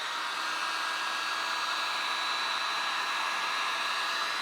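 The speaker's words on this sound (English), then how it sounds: "then I go over it with the heat gun" Heat gun blowing over puff foam beneath embroidery thread to shrink it, a constant loud airy hiss with a faint whine, unbroken from start to finish.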